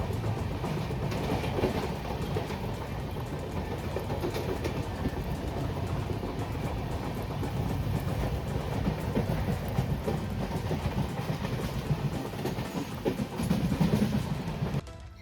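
A passenger train rolls along the rails on a rainy journey to Meghalaya, giving a steady low rumble with rattling carriages and faint clickety-clack from inside the coach, continuous throughout.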